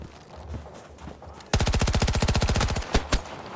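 Machine gun fire in the shooter Battlefield 2042: after a quiet stretch, a loud, fast burst of about twenty evenly spaced rounds rattles for over a second, followed by two separate single shots.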